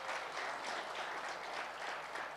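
Colleagues at a labour law seminar gala dinner give a round of applause, a dense, steady wash of many hands clapping throughout, moderately distant and even in level.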